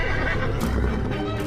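A horse neighs loudly and close in a stable in an animated Hindi story, a single drawn-out whinny with faint hoof clops beneath it.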